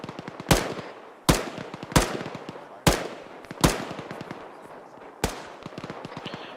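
Automatic gunfire in ArmA 3: six loud, sharp bursts of shots spaced about a second apart, each followed by a short ringing tail, with a faint crackle of more distant fire in between.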